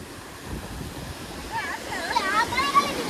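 Sea waves rise and flood around the seaside Batheshvar Mahadev temple at Kalsar, a steady rushing surf with voices joining in toward the end.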